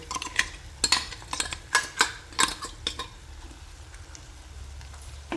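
An onion-coconut masala paste is sautéed in a pan for a Maharashtrian drumstick fry, with a spoon scraping and clattering against the metal in irregular knocks and taps over a quiet background hiss.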